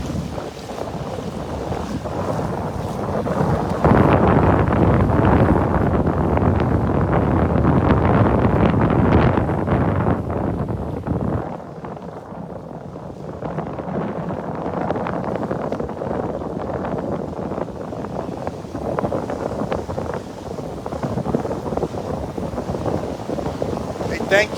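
Wind gusts across the microphone on the beach at Delnor-Wiggins, a loud, roaring buffet that surges and eases, mixed with the broad wash of surf and brief stretches of someone talking.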